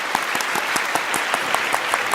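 Brisk studio applause for two game show contestants, a small crowd clapping quickly with a few distinct louder claps standing out in an even rhythm.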